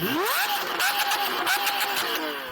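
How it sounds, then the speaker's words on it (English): A loud Lamborghini Aventador V12 engine revs upward, then holds a high, snarling pitch with small rises and dips, close by. "So Aventador, can you rev up your V12 please?"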